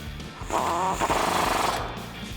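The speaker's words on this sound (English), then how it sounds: "then we can tighten that up with a 17mm socket" A ratchet or impact tool runs in a short buzzing burst about a second long, close and moderately loud, tightening a factory nut with a 17mm socket during a Supreme Suspensions lift kit install on a 2005-2021 Toyota Tacoma 4WD front suspension.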